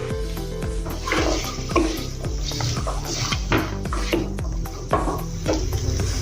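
Pulao in a pot being mixed after cumin and coriander powder go in, with repeated close scraping and clanking of a spoon against the metal pot over a soft background hum, no voices.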